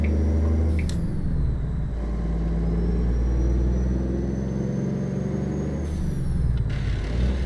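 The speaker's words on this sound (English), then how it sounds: "let's see if we can float our gears here in this Eaton 10 speed" A truck with an Eaton 10-speed transmission rumbles steadily at road speed from inside the cab as the driver tries to float a gear, with engine drone, a couple of sharp clunks and brief hissing air bursts.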